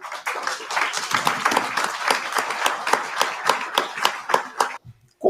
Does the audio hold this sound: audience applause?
yes